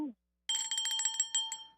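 A hand bell rung in a radio studio to celebrate a contest winner, a rapid burst of bright metallic rings for about a second and a half, close and clear, following a brief voice.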